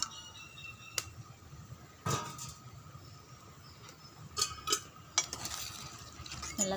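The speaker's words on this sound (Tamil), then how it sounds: "நல்லா கலக்கி விட்டுப்போம்." Crab curry being stirred in a pot over a wood-fired stove, with quiet scraping and a few sharp clinks of a utensil against metal at irregular moments, no voices.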